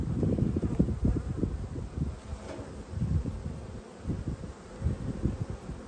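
Honey bees buzz around an open hive during a quick inspection by an Australian beekeeper, a close, fluctuating low drone with bees passing near, rising and falling throughout without talk.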